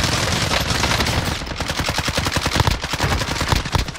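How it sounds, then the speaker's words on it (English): Video game gunfire crackles in dense rapid automatic bursts, loud and continuous, overlapping shots from more than one weapon with no talk. "Somebody else shooting."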